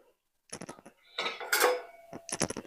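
A lid set onto a pot while chicken pakodi is being prepared, heard as a series of close metallic clinks and scrapes, then a brief rattle and more light clatters, with no voices.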